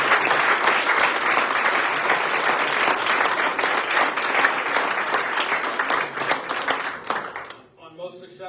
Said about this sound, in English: you can give a huge round of applause